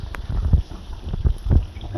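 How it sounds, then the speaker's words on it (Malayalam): Tapioca boils in a pot, with irregular low bubbling thumps and gurgles over a steady background hiss throughout. "കപ്പ തിളച്ചുകൊണ്ടിരിക്കുകയാണ്."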